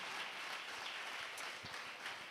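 A church congregation applauds during a Sunday sermon, a steady wash of many hands clapping at once, evenly sustained and moderately distant, with no talk over it.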